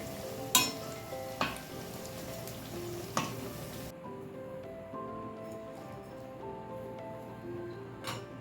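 Banana flower vadai frying in oil over a low flame, giving a soft continuous sizzle with a few sharp clinks of a utensil against the pan.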